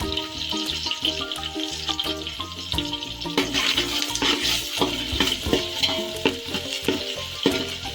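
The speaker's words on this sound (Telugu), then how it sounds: "ఉల్లిపాయ మంచి కలర్ వచ్చేంత వరకు వేయించుకుందామండి." Onions frying in masala for vegetable pulao, a steady close sizzle with repeated scraping and clattering stirring strokes throughout.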